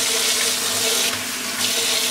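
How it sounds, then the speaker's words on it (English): Running tap water splashes steadily as a makeup brush is rinsed and wetted under the faucet, a continuous broadband hiss with no talking. "So again, wetting the brush and continuing on"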